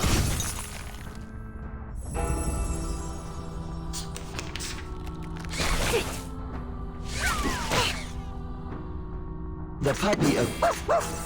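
A puppy barking in the Reverse: 1999 video game, short yips and barks mixed among shattering, whooshing game effects and background music, a few sharp bursts spread across the stretch.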